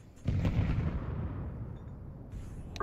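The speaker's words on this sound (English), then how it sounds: "throwing a grenade" A grenade detonates in a Counter-Strike 2 match on the Inferno map, a single loud blast followed by a long rumbling decay with faint sharp cracks near the end.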